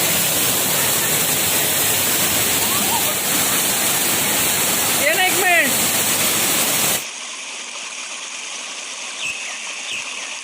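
The waterfall at Palsambe in Kolhapur roars as a loud, dense wash of falling water with faint voices mixed in, then drops abruptly to a much quieter, thinner rush partway through.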